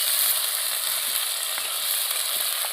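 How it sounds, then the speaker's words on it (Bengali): Spice paste of salt, turmeric and chilli powder fries with fish and taro greens in a pan, giving a loud, steady, close hiss of sizzling oil throughout, with no talking. "ভালো করে মশলাটা কষিয়ে নেবো"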